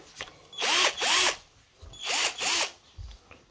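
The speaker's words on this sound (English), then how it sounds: "So we come and get our drill." A cordless power drill backs screws out of an integrated fridge's kitchen unit, with two pairs of loud, close whirring bursts separated by brief pauses and no talk.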